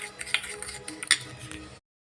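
A spoon stirs coconut oil, castor oil and vitamin E in a small bowl, giving soft scraping with a couple of sharp metallic clinks, close and brief.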